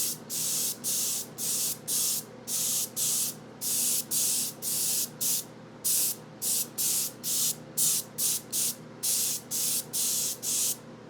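Light first coat of paint sprayed onto an Avro Arrow scale model: a string of short airbrush-style spray bursts, each a second or less, hissing close and steady in a quick on-off rhythm over a faint background hum.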